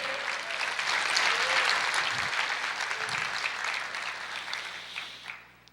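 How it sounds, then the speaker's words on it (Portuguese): Steady applause from a church congregation fills the space for several seconds, swelling early and then fading out toward the end. "Você pode aplaudir o Senhor?"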